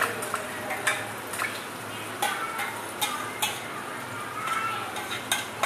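Masala paste of ginger, dried red chilli, tomato and cashew fries in a pan with a steady close sizzle, punctuated by repeated clicks and scrapes of a spoon stirring against the metal.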